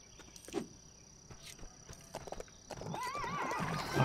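Horses in the LEGO City Undercover video game give scattered hoof clip-clops, then a loud wavering neigh near the end, close and clear against a faint insect-like background hum.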